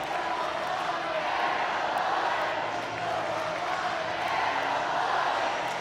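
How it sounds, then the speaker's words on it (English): Crowd cheering inside Hulbert Arena at a FIRST Indiana robotics state championship, a dense continuous roar of many voices filling a large indoor space at steady loudness. "Getting loud inside Holbert Arena."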